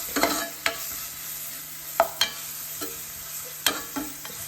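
Onions frying over a medium flame with salt for egg bhurji, a soft steady sizzle punctuated by sharp clicks and scrapes of a spatula against the pan at irregular intervals.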